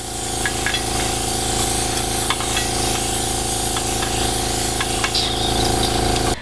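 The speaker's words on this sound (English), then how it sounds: "I want to spray on my pumpkin cheeks." An airbrush spraying color onto a pumpkin head cake gives a steady, close, continuous hiss with no break and no talking.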